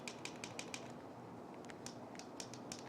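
Sharp plastic clicks from the buttons of a LEGO EV3 brick, about a dozen quick taps in an uneven rhythm, close and fairly faint over a quiet background hum.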